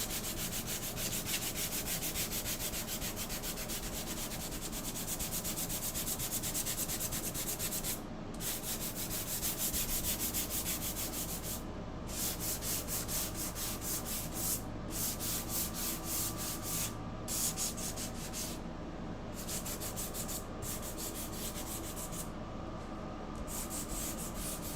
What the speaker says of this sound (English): if you have sensitive ears, I'm going to be sanding